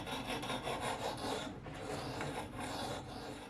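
Knife sharpening on a TSPROF Pioneer guided sharpener, a continuous raspy stone-on-steel scraping in quick back-and-forth strokes, close and fairly quiet, with a brief pause halfway.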